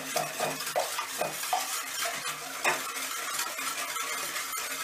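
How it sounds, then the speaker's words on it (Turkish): Flour, starch and sugar being whisked together in a pot before cooking, a steady scraping and tapping of the whisk against the pot with a few louder knocks, close by and with no talking. "Üstüne de 1 su bardağı toz şekeri ekleyip ocağa koymadan evvel güzelce çırpıyoruz."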